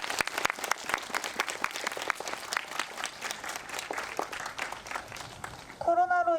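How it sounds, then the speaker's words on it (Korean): Applause for school orchestra students at a high school literary evening, steady clapping from a modest crowd with sharp individual claps, ending as a voice begins speaking over it. "문학의 밤의 마지막을 아름답게 장식해준 오케스트라 학생들에게 다시 한번 큰 박수"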